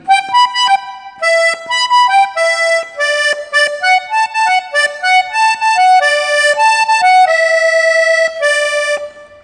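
A button accordion plays a bright melodic tutorial passage of a song in G, close and loud, with quick stepwise notes and short bellows pauses, unaccompanied and without voices.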